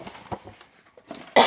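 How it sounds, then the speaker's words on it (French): A person with a cold and headache coughs a few short, dry bursts close to the microphone, separated by quiet pauses, ending in one louder, harsher cough. "Je m'excuse pour tousser."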